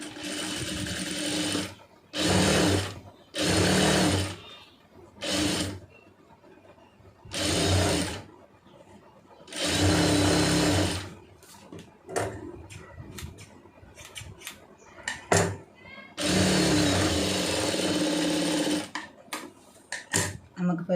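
A sewing machine stitches a blouse in repeated short bursts of rapid whirring, each a second or two long, separated by pauses, with a longer run near the end; no speech is evident.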